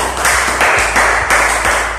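An audience applauds at a French-language motivational business talk, a loud, dense burst of clapping that swells and holds steadily for about two seconds.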